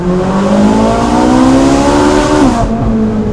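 A Ferrari 458 Spider engine revs hard into high rpm and climbs steadily in pitch, loud and close, then drops off sharply near the end.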